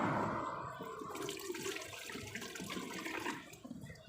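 Water is scooped and poured out while a fish tank is cleaned, making a continuous splashing, gushing rush that stays fairly steady before easing off near the end.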